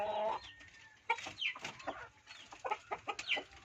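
Chickens clucking and calling at a province home in La Union near their nests, several birds with repeated short clucks and higher squawks, fairly close and moderately loud, with no talking.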